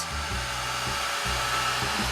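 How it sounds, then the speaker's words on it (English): A hair dryer blows steadily on a soaking-wet watercolor journal page, a continuous whirring roar with a low motor hum throughout, close and loud, with no voices. "now all I'm going to do is grab my dryer because I made my page extremely wet"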